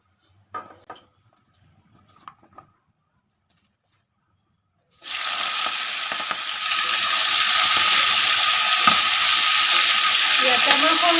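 Prawns drop into hot oil in a pan and break into a loud, steady sizzle that fills the rest of the clip, after a few faint kitchen clinks at the start.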